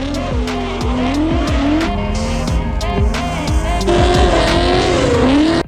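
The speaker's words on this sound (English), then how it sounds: "this is my Mark III drift car" A V8-swapped Volkswagen Mk3 Golf drift car at full throttle, its engine rising and falling through repeated revs while the tires squeal and skid loudly and up close. The noise keeps going to the end and then cuts off.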